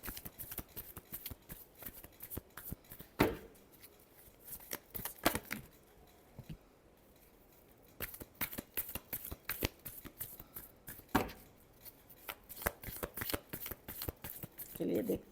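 Tarot cards shuffled by hand, a rapid riffle of crisp flicks and slaps repeating in bursts across the clip, close and fairly quiet, with a few soft pauses between shuffles.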